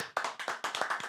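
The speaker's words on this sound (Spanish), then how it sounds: "Aplauso para Sander." A short burst of hand clapping from a small audience on a radio show, several quick claps close together, loud and near, with no voices over it.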